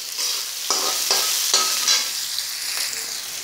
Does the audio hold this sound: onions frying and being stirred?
yes